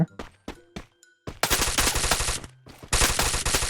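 Free Fire battle-royale gunfire: a few separate shots at first, then a loud sustained automatic burst that keeps firing close by, with no speech over it.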